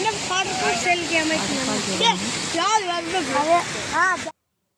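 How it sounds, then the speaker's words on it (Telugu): Full-flowing waterfall at Singanamala lake near Anantapur, a steady rushing roar beneath loud, continuous talk from nearby voices. "వాటర్ ఫాల్ ఫుల్ ఫ్లో అవుతున్నాయి వాటర్"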